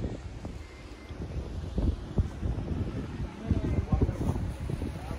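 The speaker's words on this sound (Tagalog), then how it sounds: "It's just a little windy, but it's okay." Wind gusts blow outdoors at Pahrump Valley Winery in spring, buffeting the microphone with low rumbling bursts while people talk throughout.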